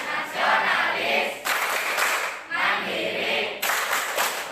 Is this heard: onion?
no